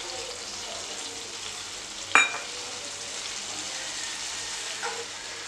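Cream heating in a pan on the stove for chocolate truffle sauce, with chocolate compound about to go in. A steady, even sizzling bubble runs throughout at moderate level, broken by one sharp clink about halfway through and a softer knock near the end.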